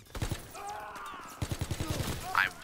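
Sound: gunshots in Call of Duty WW2 video game

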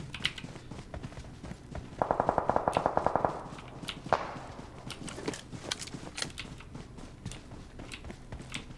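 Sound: gunfire in the video game PUBG Mobile

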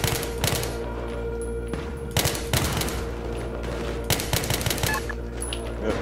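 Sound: gunfire from enemies outside window, Battlefield 3 video game

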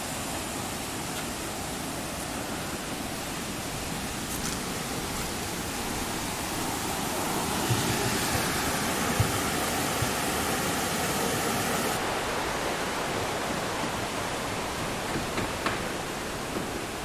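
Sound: clean water flowing in Sapadere Canyon

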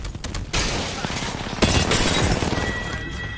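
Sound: gunfire in video game Apex Legends

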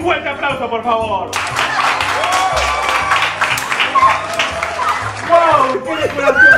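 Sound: applause

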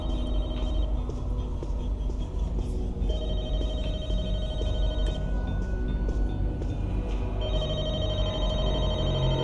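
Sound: telephone ringing in The Walking Dead: Michonne video game

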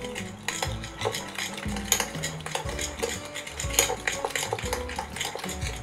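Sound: mixing pork rib marinade with salt and sugar

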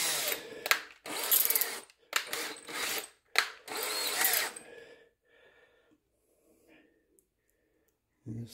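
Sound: power drill driving screws with a Phillips bit into guitar kit

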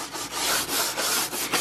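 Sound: scrubbing door with flexible cleaning brush

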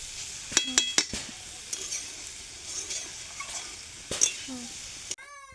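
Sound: curry being cooked and stirred in a pan

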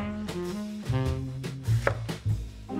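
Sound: knife slicing apples

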